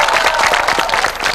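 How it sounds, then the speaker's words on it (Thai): Dense, steady applause from a studio audience at a drift-car ride show, continuous clapping filling the space loud and close for the whole stretch. "ปรบมือให้ความกล้า"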